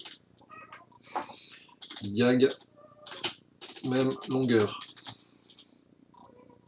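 Indoor cat meowing and purring among a few short spoken phrases, with two drawn-out, wavering meow-like cries standing out between quieter clicks and murmurs.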